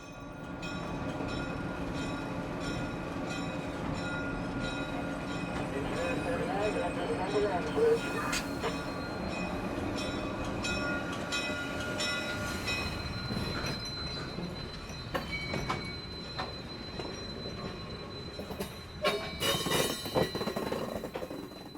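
Excursion train on the South Carolina Railroad Museum line between Rockton and Rion, with a steady rolling rumble, rhythmic wheel clatter and occasional squeals and horn-like tones, heard from on board with a person talking over it.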